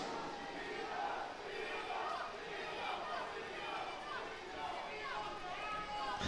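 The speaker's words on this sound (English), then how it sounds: "Rigoberto Urán's fan club are cheering away, singing his name" A fan club crowd cheers and chants a cyclist's name at a road cycling world championship, a steady distant mass of voices with chatter filling the background.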